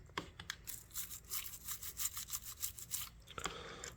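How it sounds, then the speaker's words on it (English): A toothbrush with water scrubs dirt and oil out of a vintage Colonial electrician's knife, quick rhythmic bristle strokes repeating up close and fairly quiet, with no talking. "this is where the toothbrush and water really help, is this area right here"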